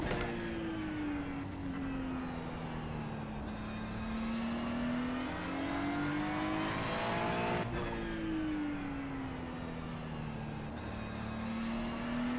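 A race car engine drones steadily on an outlap in a sim racing video game, rising and falling through gear changes with a constant loud hum and no talk over it.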